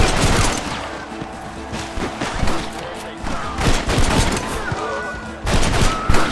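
Rapid bursts of gunfire in a Red Dead Redemption shootout crackle and boom continuously, loud and dense, with sharp shot transients layered over a thick rumbling mix.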